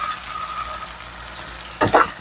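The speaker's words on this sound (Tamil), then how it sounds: "நல்லா வதக்கி விடுங்க." Onions sautéing in a pan for a village-style boti gravy, a low steady sizzle over a faint hum, broken near the end by a couple of sharp scraping stirring strokes; no speech.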